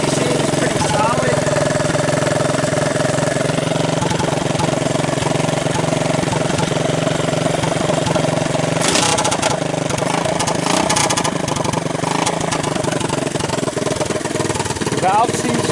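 A 1983 Honda ATC200 three-wheeler with a freshly rebuilt top end, running steadily near and loud, its idle wavering slightly, while a person talks over it.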